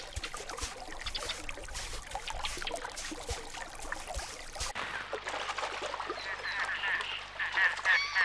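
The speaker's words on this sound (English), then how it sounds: "The ice-free waters of the ponds tempt a flock of migrating ducks to take a rest." A flock of migrating ducks calls on ice-free ponds, scattered quacks and honks overlapping amid splashing water, with the birds sounding close and busy throughout.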